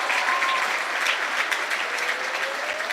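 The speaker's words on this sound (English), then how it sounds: "one more big round of applause for our 2022 seniors" Crowd applause fills a high school girls basketball gym on senior night for the 2022 seniors, a steady, dense clapping that holds at full loudness for the whole stretch with no talk over it.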